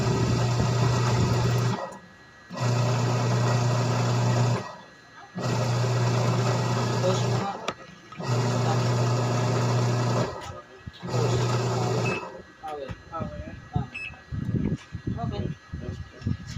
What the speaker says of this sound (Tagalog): Newly installed motor Fukuda washing machine.